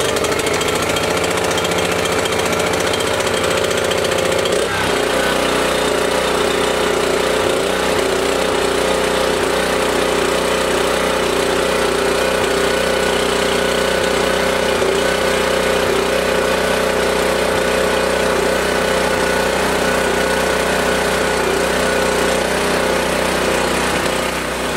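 A small petrol engine, choke out and switch on, catches after several pulls and then runs steadily at a loud, constant idle-like drone that fills the whole stretch with no talking.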